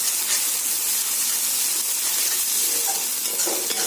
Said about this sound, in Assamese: নহৰুখিনি ভালকৈ ভাজ খাব লাগিব আৰু কেঁচা গোন্ধটো যাব লাগিব